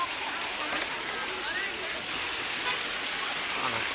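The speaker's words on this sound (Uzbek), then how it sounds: "Mana sharsharalar." Waterfall fountains at the Sangardak dam recreation area send out a steady, loud rush of falling water that fills the whole clip, with faint voices mixed in behind it.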